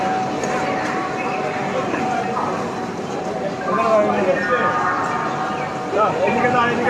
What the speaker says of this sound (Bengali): এই যে আমার ট্রেন চলে এসেছে